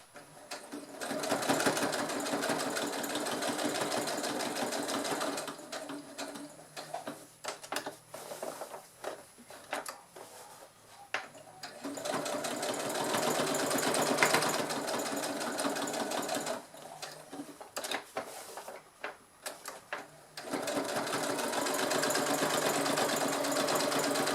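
Sewing machine stitching a denim patchwork bag, running in long steady bursts of rapid needle chatter with brief pauses between seams, close and clear.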